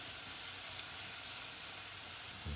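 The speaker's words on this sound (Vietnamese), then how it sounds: "mình cháy tỏi cho nó thơm thơm" Garlic frying in a pan for a pot of bánh canh with shrimp and pork, a steady soft sizzle and crackle of hot oil running continuously, close and even, with no talking over it.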